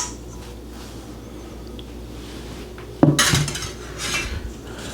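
Wet and dry buttermilk pancake batter ingredients tipped into a mixing bowl: a sharp clink of a utensil or dish against the bowl, then soft scraping and a second brief clatter in an otherwise quiet kitchen.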